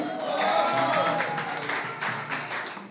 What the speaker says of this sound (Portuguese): uma salva de palmas pra vocês